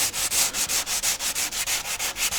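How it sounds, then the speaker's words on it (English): Steady back-and-forth hand sanding with 220-grit sandpaper on a repaired hole in a racing shell, about a dozen even rasping strokes in a brisk rhythm, close and clear. "Now I'm going to finish with some 220."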